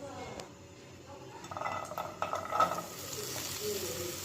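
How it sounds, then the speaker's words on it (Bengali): Chopped green chilies and carrot hit hot oil for fried Maggi noodles, giving a quiet sizzle that swells midway, with a few light utensil clinks and scrapes in a hushed kitchen. "তেলটা গরম হয়ে গেছে, এবার কাঁচা লঙ্কা কুচনো আর একটা কাঁচা লঙ্কা কাটা আছে"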